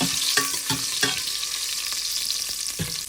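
Ginger sautéing in annatto oil in a pan, a steady bright sizzle with several sharp stirring clatters at close range and no voices.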